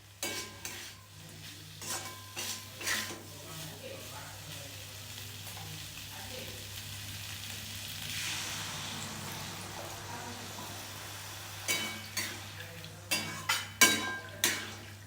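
Two eggs frying in a pan with stirring and scraping; a steady close sizzle runs throughout, broken by clusters of sharp utensil clicks and taps near the start and end.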